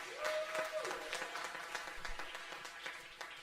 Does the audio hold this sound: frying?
no